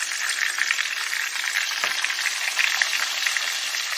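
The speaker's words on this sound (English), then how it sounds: "while you're frying these chicken breasts, make sure you fry them on, make sure you fry them 3 minutes on each side" Chicken breasts fry in hot oil with a steady, dense, close sizzle that holds at an even level throughout, with no voices over it.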